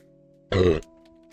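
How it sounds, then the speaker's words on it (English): A single loud human burp, a short throaty eructation about a third of a second long, bursts out close to the microphone between stretches of quiet room tone. "Excuse me. I'm gonna burp."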